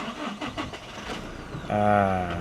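A Toyota Revo pickup with a P1271 fault code cranks and catches, a short starter whirr followed by the engine settling into a steady idle, heard close after a moment of quieter workshop background.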